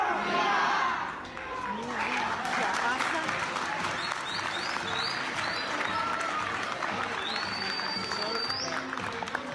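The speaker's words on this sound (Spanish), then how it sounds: "Un aplauso total." Audience applause at a live taping, with dense steady clapping from a crowd that starts loud, dips briefly, then carries on evenly throughout, a few whistles rising above it.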